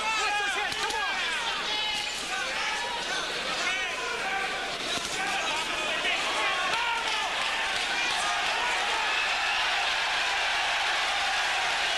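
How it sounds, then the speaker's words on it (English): Boxing arena crowd during the Kobozev versus Dominguez fight, a dense, sustained roar of cheering and applause filling the full stretch without letup, with commentary voices running underneath. "And the crowd absolutely loving this one."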